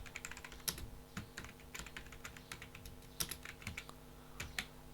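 Steady, close-up clatter of a computer keyboard as code is typed for a React project, with irregular bursts of keystrokes and brief pauses, no voices over it.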